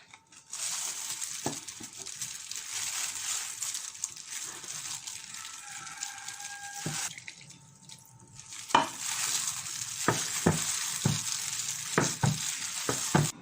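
A Thai butterfly pea flower dessert batter mixed with coconut cream is stirred in a bowl, making a continuous wet, sloshing scrape, followed by a brief pause and then several sharp utensil taps and knocks.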